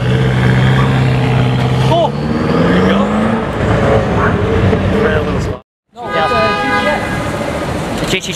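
Sports cars rumble and rev past nearby with rising engine tones and loud exhausts, a horn-like toot and people talking excitedly over the traffic.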